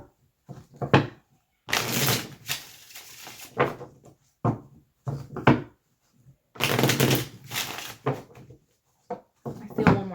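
Tarot cards being shuffled by hand in close, irregular bursts of papery riffling and soft slaps, separated by quiet gaps.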